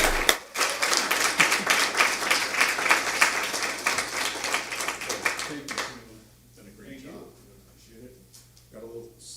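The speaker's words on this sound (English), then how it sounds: "a big round of applause is appropriate for Shannon Foley" A room at a school district board meeting applauds a departing board member with dense, steady clapping for about six seconds, then it dies away and people begin talking.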